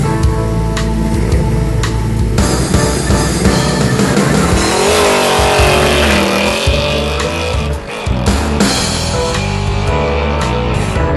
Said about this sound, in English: Notice the launching power of this off-road racing slick.